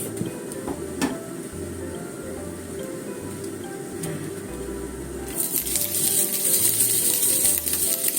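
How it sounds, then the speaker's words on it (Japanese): Dried whitebait (shirasu) and chikuwa being stir-fried in a pan, a soft steady sizzle with faint patter that swells louder near the end, heard alone and up close. "しらす干しを炒めて、 このちくわも悪くなるから一緒にしようと思います。"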